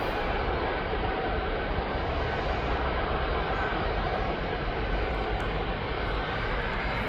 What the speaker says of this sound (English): I'm putting you onto that Jet2.com livery because he's on his way out.